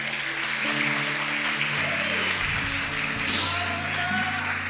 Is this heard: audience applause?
yes